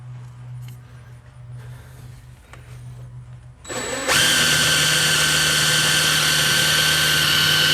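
A power drill whirs up after a quieter stretch of low hum, then runs loud and steady at full speed.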